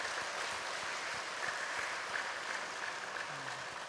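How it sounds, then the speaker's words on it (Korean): A church congregation at a Sunday worship service applauds to welcome visiting missionaries, a steady wash of clapping throughout that eases slightly toward the end. "크게 한번 박수로 우리가 환영하도록 하겠습니다"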